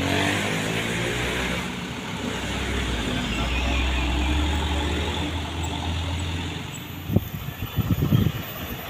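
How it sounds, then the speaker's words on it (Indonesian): A Hino 500 truck on the steep Sitinjau Lauik road rumbles loudly with a deep, sustained engine-braking drone close by, and a few sharper mechanical bursts near the end. "Suara breaknya sangat keras sekali bosku ya."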